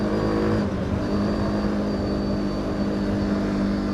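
A quad bike named Ginger, just back from a 6000-mile overhaul, drones loudly and steadily as it is ridden, with its engine note shifting slightly as the throttle changes and no one speaking.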